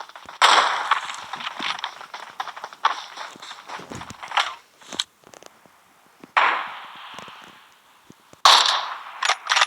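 Rapid game gunfire from World of Warcraft, sharp cracking bursts and pops in clustered volleys with short quiet gaps, loud and close, no talking.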